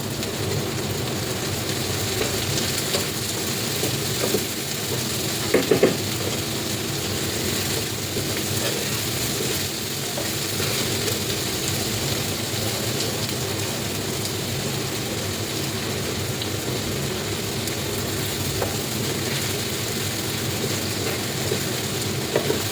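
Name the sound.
onions frying in oil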